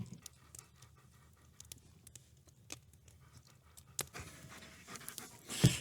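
A dog panting steadily close by at a campsite beside a fire, quick rhythmic breaths, with a few light scratches and a louder rustle near the end.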